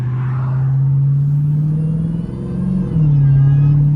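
Dodge Hellcat with a drag pack pulling hard in third gear, a loud steady low engine drone with a faint high supercharger whine riding above it, dipping briefly before surging back.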